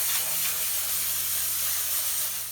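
Water sprays hard onto the fins of an air-conditioning condenser being rinsed of detergent, a loud, steady broadband hiss lasting a few seconds with a faint low hum beneath.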